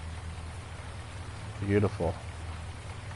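Steady rain hiss in Farming Simulator 19 on PS4, a constant soft wash of falling drops running throughout, with someone briefly speaking over it near the middle.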